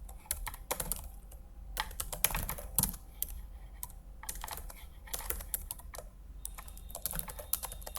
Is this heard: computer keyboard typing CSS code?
yes